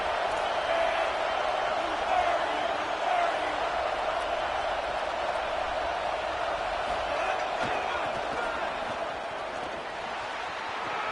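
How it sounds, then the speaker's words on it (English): Loud, continuous roar of a football stadium crowd during a second-down play as the defense tries to hold on, a dense wash of cheering noise throughout. "This crowd even louder now on second down as they try to hold on."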